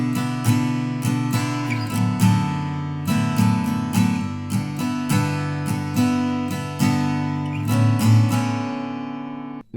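A steady, rhythmic acoustic guitar riff with many quick down and up strums and short muted breaks, played solo and up close.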